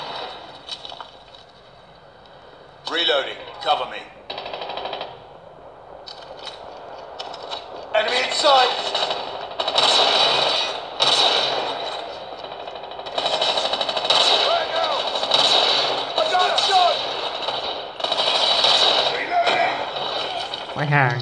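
Rapid automatic gunfire from a shooting video game comes in long sustained bursts, loud and dense, with players talking over it throughout.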